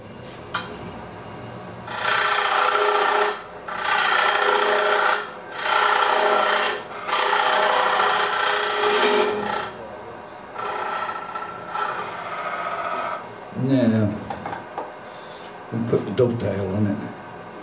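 A skew chisel cuts wood on a spinning lathe while a friction chuck is shaped, making loud rasping scrapes in several sustained passes with short gaps between them, followed by someone speaking nearby.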